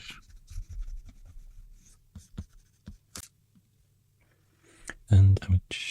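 Graphite pencil sketching a dinosaur on paper, scattered light scratchy strokes and taps close up, with a person speaking briefly near the end.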